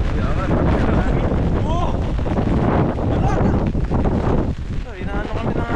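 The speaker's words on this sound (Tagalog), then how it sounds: "Inaanod kami ng hangin." Strong typhoon wind roars and buffets the microphone, a dense, loud, continuous rumble outdoors in a storm, with excited voices shouting briefly over it.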